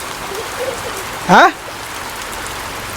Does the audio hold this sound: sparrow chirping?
no